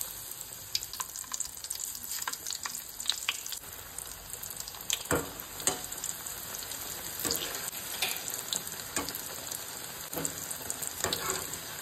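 Potatoes fry in a pan for a Goan vegetarian thali, giving a continuous close sizzle broken by frequent sharp crackles and spatters, with no voices.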